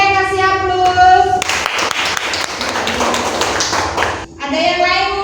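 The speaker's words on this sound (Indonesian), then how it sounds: "Oke, kasih aplaus." Classroom applause breaks out for a student's answer, a burst of many small hands clapping rapidly for a few seconds between stretches of a teacher talking.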